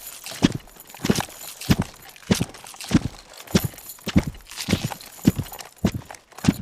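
Sound-designed character footsteps layered with chain and leather armour thump in a steady, regular walking rhythm, each step a close, punchy impact with a jingling rattle.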